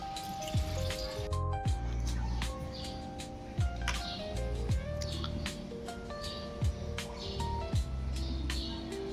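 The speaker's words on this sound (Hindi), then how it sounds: "मुँह वगैरह धो लेती हूँ।" Water splashing and dripping at a bathroom sink during morning face washing, with repeated irregular splashes and drips close by, fairly quiet.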